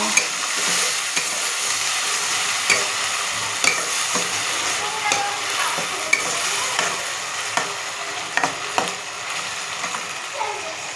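Spice paste frying in a pan, a steady close sizzle broken by regular scraping and knocking as a spoon stirs it against the metal.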